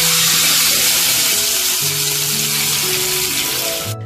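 Mustard seeds and curry leaves fry in hot oil for a mango curry tempering, making a loud, dense, continuous sizzle with crackling close by. It runs for about four seconds under faint background tones before cutting off sharply.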